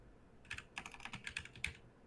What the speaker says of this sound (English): As we all hear you typing.